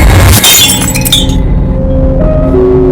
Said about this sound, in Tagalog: matapos mabasag ang baso